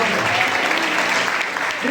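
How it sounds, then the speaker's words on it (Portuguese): A church congregation applauds in steady, dense clapping that fills the whole stretch, with a few voices mixed in beneath the clapping. "Aplauda o Senhor, por essa palavra"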